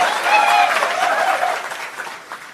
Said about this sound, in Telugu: మోదీ గారు చప్పట్లు కొట్టాలి మనం చేసిన కృషికి